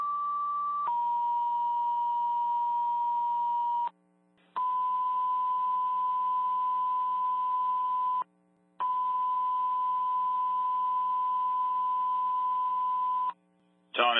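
Fire dispatch alert tones sound over a radio channel for a building fire in Jaffrey, NH: a loud steady electronic tone steps to a second pitch, then repeats in long sustained blasts separated by brief gaps, with a low hum underneath.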